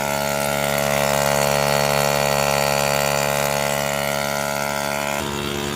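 A motorized power sprayer engine used for spraying pesticide in a garden drones loudly and steadily with a strong harmonic whine, shifting pitch near the end.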